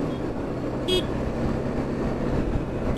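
A motorcycle horn honks in two short toots about two seconds apart, heard over steady road and traffic noise while riding.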